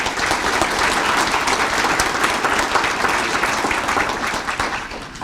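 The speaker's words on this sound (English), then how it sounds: "Let's give our nominees a round of applause" An audience at the 2019 Pickerington Area Chamber of Commerce awards celebration claps for the nominees, a full, loud round of many hands that holds steady before tapering slightly at the end.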